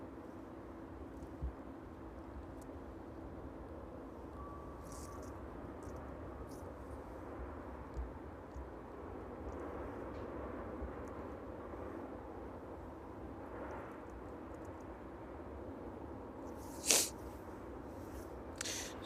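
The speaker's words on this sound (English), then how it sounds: "Maybe the last aircraft out on tonight's stream." Aircraft departing East Midlands Airport on a chilly evening, a faint, steady distant engine roar with a low broadband rumble, joined by a brief sharp click near the end.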